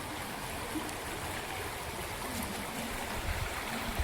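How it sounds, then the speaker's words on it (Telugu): Steady rushing floodwater flows without pause down a village lane during heavy rain, a broad constant roar of runoff with no voices. "ఒక గల్లి నుండే ఇన్ని నీళ్ళు పోతున్నాయి"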